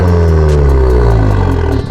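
A 2016 Volkswagen GTI with a new downpipe roars close by with a deep, raspy exhaust note that stays steady, then eases off at the end.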